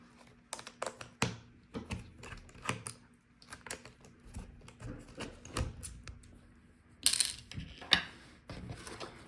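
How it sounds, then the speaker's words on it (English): Hinge screws are taken out of a Lenovo ThinkPad X1 Carbon Gen 9 laptop during disassembly, giving close, quiet clicks, taps and small metallic ticks at an irregular pace, with a brief brighter clatter like a screw dropping near the seven-second mark. "So take out the screws for the hinges."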